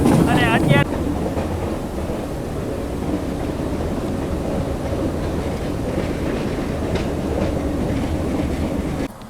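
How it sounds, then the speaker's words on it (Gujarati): A metre gauge train rolls along its track between Junagadh and Veraval with a steady, loud rumble and wind buffeting. A brief brighter burst opens the sound before it settles into a continuous drone. "અત્યારે આપણે ટ્રેન આવી ગઈ છે વિસાવદર જંકશન રેલવે સ્ટેશન ઉપર"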